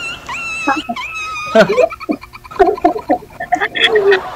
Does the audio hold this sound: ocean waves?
no